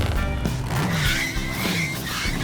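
A cartoon motorbike drifting: tires squeal and skid in sweeping pitch slides over a revving engine, loud and continuous for a couple of seconds.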